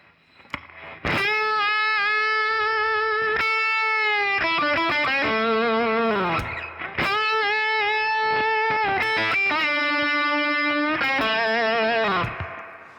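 A distorted electric guitar plays a bluesy lick with bends and quick runs, loud and sustained, with no talking.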